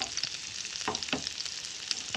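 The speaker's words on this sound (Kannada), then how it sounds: "ಒಂದು ಸೈಡ್ ಫ್ರೈ ಆಯಿತು" Mackerel (bangude) fish frying in a pan, a steady close sizzle with a couple of brief scraping or stirring touches partway through.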